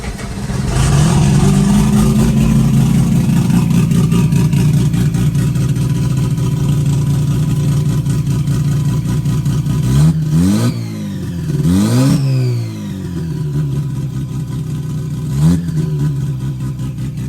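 A red Mazda RX8's rotary engine runs loud and close, a steady rough idle that then rises in several sharp revs, each climbing and falling back quickly, with a final blip near the end.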